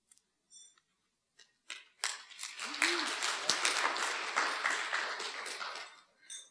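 Audience applause at a lecture at the University of Canberra's Ngunnawal Centre, rising after a few scattered claps into dense, steady clapping for about four seconds before fading out, with a brief voice at the very start.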